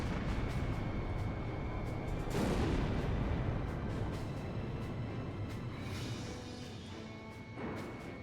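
Fighter jet missile launch in Ace Combat, Belkan War setting, a dense roaring blast that swells into a heavy whoosh near the start and trails off into sustained rumbling jet noise, with softer secondary bursts later.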